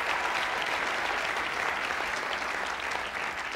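A studio audience claps in sustained, dense applause that holds at an even level throughout, with no voices heard over it.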